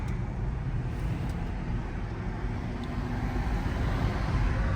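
Road traffic heard from inside a Cadillac Lyriq EV: a steady, muffled low rumble of tyres and passing vehicles, continuous and even throughout.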